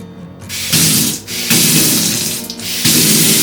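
A hotel bathroom faucet runs water in a steady, close splashing rush with a few brief breaks where the flow dips before surging again.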